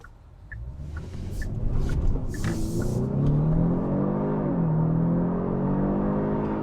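A 2022 Genesis G70 3.3t sport sedan accelerates hard from inside the cabin, engine note climbing and shifting through gears with a rising, steady whir and a loud, continuous rumble, no talking over it.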